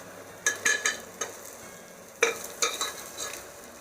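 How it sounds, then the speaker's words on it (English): Onions frying in a pan while a utensil stirs them: a low steady sizzle broken by sharp scraping strokes in two clusters, close up. "sauteed it a bit, and then added onions and made it nice and brown."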